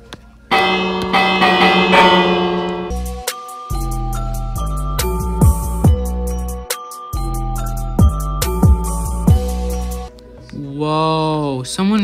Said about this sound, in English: And it looks like I found another bell.